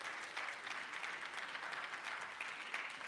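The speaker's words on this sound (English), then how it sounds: "Weird clap for that one." Applause during a Trump address to Congress, a big chamber crowd clapping steadily throughout, heard faintly as a dense patter with no pauses.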